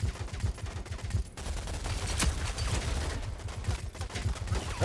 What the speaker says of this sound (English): Hitting him with the LMG from across the map